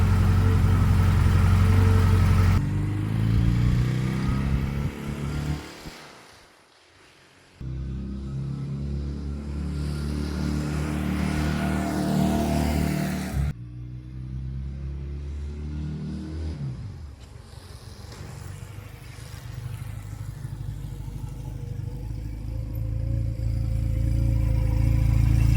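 A new rider's first motorcycle passes several times outdoors, its engine swelling loud, fading and returning in repeated drive-by runs with no talking.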